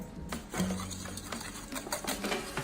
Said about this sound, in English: Just whisk this together.